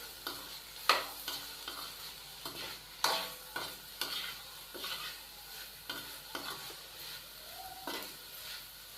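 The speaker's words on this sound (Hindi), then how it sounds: "अच्छे से हम इन सबको मिक्स करेंगे।" Vegetables stirred with chili sauce and salt in a pan for Hakka noodles, giving repeated scraping stirs at a steady rhythm over a soft background sizzle, close and fairly quiet.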